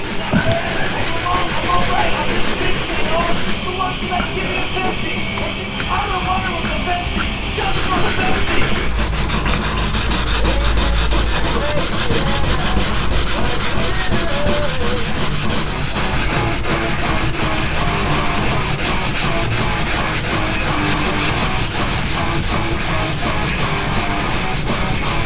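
Hard, continuous sanding on a scuffed Lexan targa top from a Corvette, pressed down firmly to lift the coating, a steady close rasping rub with rhythmic strokes that runs unbroken throughout.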